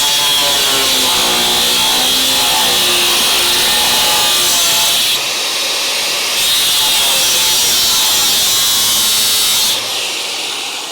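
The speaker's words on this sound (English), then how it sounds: "now we know we got to good metal because this is taking a second to cut through" An electric cutting tool slices through sound body metal on a Crew Cab Dodge Charger under restoration, a loud high-pitched whine holding steady for seconds with brief dips in load.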